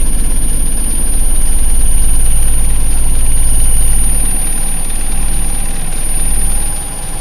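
A Toyota car engine with a carburetor idles at low, steady RPM just after an air-fuel mixture adjustment, giving a loud, close, continuous rumble with slight unevenness in its pulse throughout.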